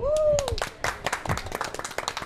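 Studio audience applause on a French motoring TV show, a burst of dense clapping that fills the short moment alongside a rising musical tone at the start.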